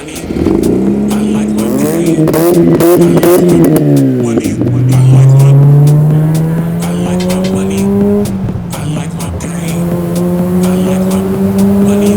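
A Mazda RX-8 revs hard and close, its engine note sweeping up and down through several strong accelerations, with brief squeal-like bursts over a steady mechanical roar.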